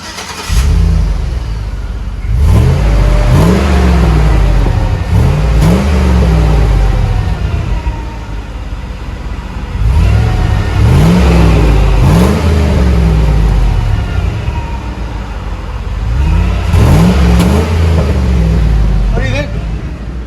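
A 2004 Chevy Avalanche with a 5.3L V8 and a Flowmaster FlowFX turn-down exhaust revs loudly and repeatedly in deep rising bursts, settling back to a rumbling idle between each rev.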